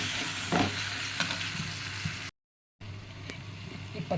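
Fried idly manchurian being stir-fried with soy, chilli and tomato sauce in a pan, a close, continuous sizzle with spatula scrapes, cut by a brief silent gap midway.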